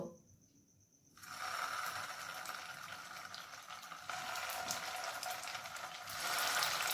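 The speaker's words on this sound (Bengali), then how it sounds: "কড়াইয়ে সাদা তেল গরম হওয়ার পর এখানে আমি কোপ্তাগুলো ফ্রাই করে নেব" Fish kofta balls fry in hot white oil in a wok, a near, steady crackling sizzle that starts abruptly after a quiet second and grows a little louder toward the end.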